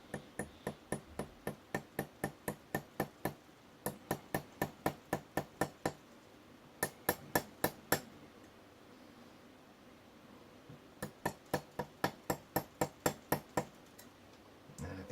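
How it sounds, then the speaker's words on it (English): Light hammer taps driving a small metal wafer driver pin into a lock part, a steady run of sharp, evenly spaced ticks in several bursts with short pauses between them, close and fairly quiet, no talking. "now what I'm going to do is just gently tap that on there"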